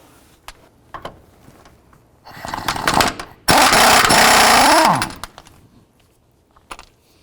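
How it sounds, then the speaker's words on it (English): A power tool zips off the outer tie rod nut on a 2005-10 Jeep Grand Cherokee: a loud, close, sustained mechanical whir of about a second and a half winds down, framed by scattered clanks and taps before and after. "Now we're going to go ahead and remove this nut."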